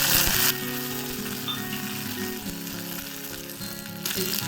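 Mustard and curry seeds sizzle and spit in hot coconut oil in a pan, a steady close frying hiss with small crackles throughout and no talking.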